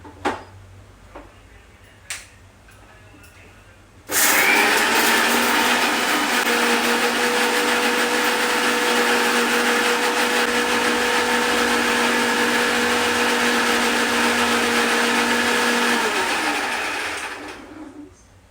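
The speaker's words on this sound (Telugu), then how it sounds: "ఇప్పుడు గరం మసాలా ఆనియన్స్ రెండు కలిపి మెత్తగా మిక్సీ పట్టుకుందాము" A mixer grinder blends onions with garam masala in one loud, steady whirring run of about thirteen seconds that winds down at the end, preceded by a few sharp clicks and taps.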